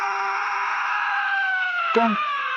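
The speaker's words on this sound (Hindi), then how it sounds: "अचानक तालाब से एक डरावनी चीख।" An eerie, drawn-out scream rises from a dark pond, a horror animation effect: a sustained wavering cry with a sharp break near the end, heard alone and fairly loud.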